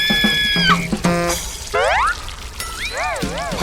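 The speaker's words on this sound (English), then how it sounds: "He splashes Peppa instead." Cartoon splash effects as a watering can's water hits a pig character in a garden: quick liquid pours, bouncy boings and wobbly sliding tones in rapid succession.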